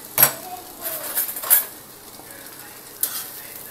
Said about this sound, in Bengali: হাই ফ্লেম করে কন্টিনিউয়াস নেড়ে যাবো